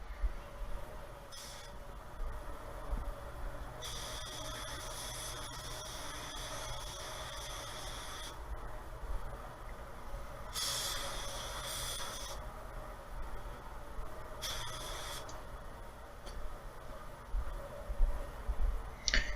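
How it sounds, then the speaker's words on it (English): A spray gun applies Tekna clearcoat blender over fresh car paint, giving several loud, steady hissing bursts of a few seconds each, separated by pauses, above a constant low background hum. "You get that spray blender on there"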